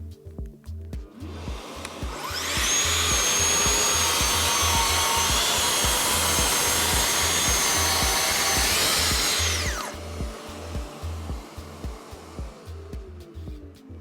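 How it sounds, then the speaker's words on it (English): A Festool TSC 55 cordless rail saw cuts through a piece of beech at a 20 mm depth: the motor spins up into a loud, steady high whine for about eight seconds, then winds down, with lower mechanical rumbling before and after. "every time I hear the cordless rail saw, is you can just hear the power"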